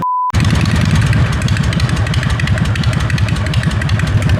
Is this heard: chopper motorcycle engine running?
yes